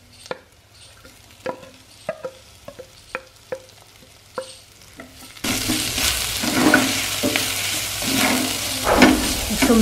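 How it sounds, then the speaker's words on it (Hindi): Garlic, ginger and onion tipped together into a pan, first a run of sharp scraping stirs and taps, then a sudden loud, dense sizzle of frying with continued stirring, no voices. "लहसुन अदरक और प्याज इकट्ठा डाल दें। तकरीबन 30 सेकंड इसको भूनने के बाद सारी चीज़ें शामिल कर दें।"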